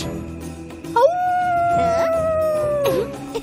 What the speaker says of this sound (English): Did you howl?